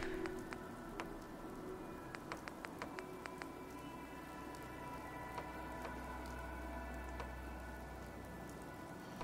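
Rain falls steadily in the video game Fallout 4, a soft continuous patter with scattered sharper drops and a low rumbling bed beneath, fairly faint and unbroken with no talk over it.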